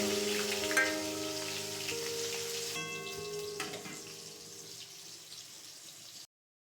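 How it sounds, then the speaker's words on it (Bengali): Chopped pointed gourd frying in oil left over from frying potatoes, a steady crackling sizzle with faint tonal hum, loud at first and easing off before cutting to silence. "আলুগুলো ভাজা হয়ে গেলে ওই তেলে আমি পটল কুচানোগুলো ভেজে নিচ্ছি।"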